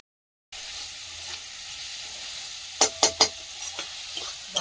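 Spice paste with salt and turmeric sautés in a pan, a steady close sizzle with a few sharp stirring scrapes and clinks partway through.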